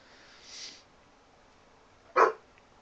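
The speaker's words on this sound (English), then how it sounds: "Sorry about the dog." A single dog bark rings out indoors, short and moderately loud against a quiet room during a painting session, preceded by a fainter earlier sound.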